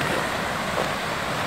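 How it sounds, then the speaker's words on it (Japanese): A babbling river near Tocoa Falls, a continuous even rush of flowing water heard close and alone, with a touch of wind in the background. "このなんていうんですかね、川のせせらぎっていう"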